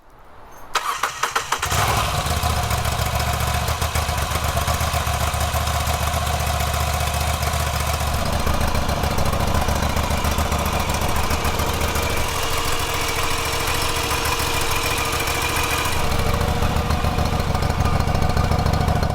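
A Moto Guzzi V85 Strada V-twin motorcycle engine starts up and settles into a steady, throbbing idle that runs on continuously and loud, with no talk over it.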